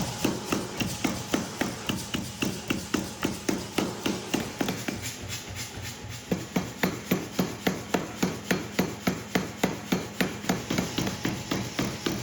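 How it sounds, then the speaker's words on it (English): Power hammer flattening a hot steel bar forged from a huge bearing for a dao sword, a rapid, regular series of heavy thuds lasting the whole stretch with one brief pause midway, loud and close. "I'm using the power hammer to flatten the curve."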